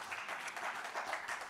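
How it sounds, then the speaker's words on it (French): A church congregation clapping steadily during a worship service, a dense patter of many hands, fairly soft and without voices. "On peut l'applaudir, le Seigneur. Il mérite nos acclamations."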